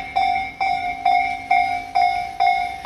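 A level crossing warning bell on the Tobu Noda Line in Kasukabe rings in a steady, evenly spaced two-tone clang, about two strikes per second, loud and close with no voices.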